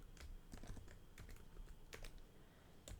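Rapid clicking of keys on a computer keyboard, quiet and close, in uneven bursts of keystrokes with short pauses.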